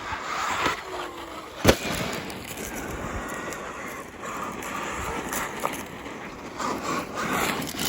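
A Traxxas X-Maxx RC monster truck on Pro-Line Badlands tyres drives outdoors, its motor and tyre noise a steady broadband rush under wind buffeting the microphone, with a sharp knock about a second and a half in.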